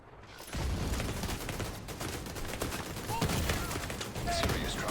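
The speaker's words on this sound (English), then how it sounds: "that turret is tearing me up" Rapid turret gunfire in The Division 2 rattles out as a dense, continuous burst of shots, loud and close, with no pauses.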